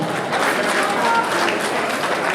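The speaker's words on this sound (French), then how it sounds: "Merci, applaudissements." Steady applause from a crowd fills a bar, a dense continuous patter of clapping at even loudness throughout.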